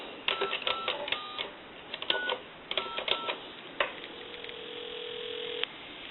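A Kellogg wooden wall crank telephone converted for dialing dials a number: a series of short, clipped tones, then a steady electronic tone holds for a couple of seconds before cutting off.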